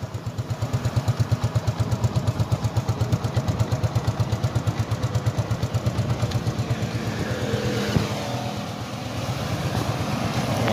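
A 2010 Yamaha Taurus motorcycle engine idles close by, with a steady, fast putter of regular exhaust pulses that holds an even rhythm throughout.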